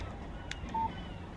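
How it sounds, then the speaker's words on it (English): A phone text message notification in the remastered Alan Wake video game, a short electronic chime that rings out once over a steady low background hum. "Text message from Barry"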